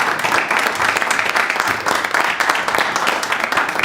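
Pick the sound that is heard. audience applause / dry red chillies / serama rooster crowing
audience applause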